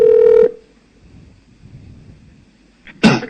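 A telephone ringtone on a call sounds as one clear electronic tone for about half a second, then quiet line hiss, then a short burst of noise at the end.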